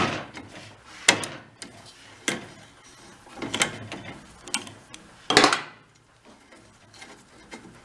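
A half-inch drive ratchet with a socket works on an antique military engine, making scattered sharp metallic clicks and clunks at an irregular pace, close up with quiet gaps between them.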